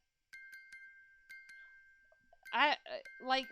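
Repeated bell-like chiming in the video game The Great Ace Attorney Chronicles, several short clear dings in an uneven pattern like a coded signal over a sustained tone, then a voice speaks.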